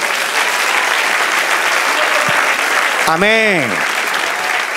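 Church congregation applauding steadily during a Spanish-language evangelical service, a dense, even wash of clapping throughout, with a voice calling out near the end.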